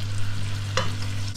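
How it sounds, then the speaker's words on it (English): Potatoes tossed in a hot pan while roasting with vegetables, a brief close scrape and shuffle over a steady sizzle with a low hum beneath, two quick bursts of movement. "Toss potatoes to get a golden color"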